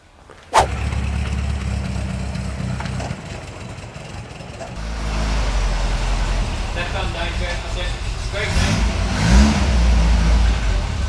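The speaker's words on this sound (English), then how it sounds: "let's find out what horsepower this has. So it's a trip to see Dave on the rolling road, I think" A Ford Escort Mk2 1600 Sport engine starts abruptly, idles loudly, then revs harder with a rising, rumbling roar up close. People talk over the engine noise.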